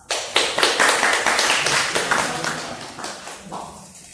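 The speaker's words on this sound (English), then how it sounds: "let's welcome Ms. Arofatul Ulya, SPD MPD, with a round of applause." A small seminar audience claps to welcome a speaker: loud, close, fairly sparse applause with distinct individual claps, gradually dying away.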